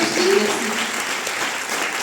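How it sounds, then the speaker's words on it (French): Applause fills a film-festival screening room as the audience claps for the film team, a steady dense patter throughout, with a voice briefly audible over it. "on va d'abord applaudir énormément toute cette équipe"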